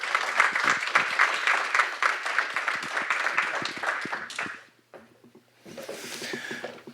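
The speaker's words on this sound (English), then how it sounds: "please a warm welcome, a warm applause" An audience applauds to welcome a speaker at a meeting in Brussels, dense steady clapping for several seconds that fades out, followed by a short burst of clapping and murmur.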